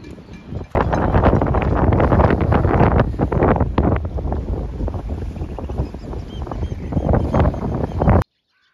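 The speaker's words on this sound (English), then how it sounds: "Windy one tonight." Strong wind blows by the water at Portavadie at night, buffeting the microphone in loud, gusty roars that swell and ease, then cut off abruptly at the end.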